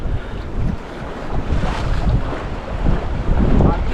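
Strong wind gusting hard against the microphone atop a 50-foot sea cliff, with rushing sea surf behind it, loud and continuous.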